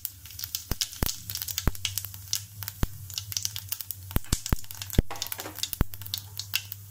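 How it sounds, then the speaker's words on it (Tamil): Steady crackling sizzle of fennel seeds and cumin frying in hot oil, with sharp pops and spits scattered throughout, close and continuous. "எண்ணெய் காஞ்சதுமே கொஞ்சமாக சோம்பு, அது கூட கொஞ்சம் ஜீரகம்,"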